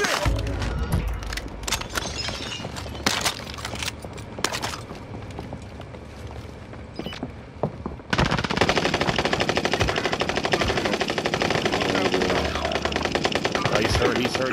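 Machine gun fire in a battle royale video game, with bursts of shots over game noise that turns into a dense, loud, sustained rattle in the second half, alongside faint voices.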